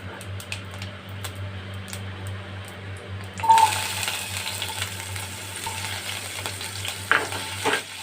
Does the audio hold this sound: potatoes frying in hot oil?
yes